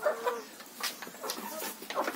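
Chickens cluck and squawk in short, irregular bursts as they are being fed, fairly close and at a moderate level, with no voices in between.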